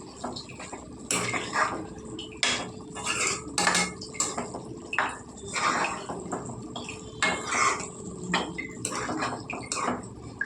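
A utensil stirs bottle gourd pulusu in a metal cooking pot, with repeated clinks and scrapes in an uneven rhythm, close and clear with no talking.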